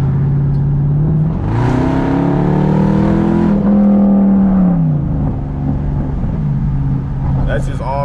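A straight-piped Jeep SRT engine is held at full throttle from inside the cabin, a loud, raw exhaust roar whose pitch climbs through gears and settles again, with a brief voice near the end.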